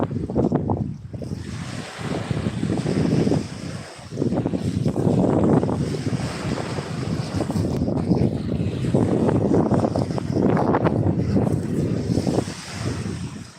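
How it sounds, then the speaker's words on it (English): Strong wind roars continuously across a microphone on a Norfolk beach while fishing, with breaking surf mixed into the steady, loud gusting buffet and no voices. "That wind's getting gnarly."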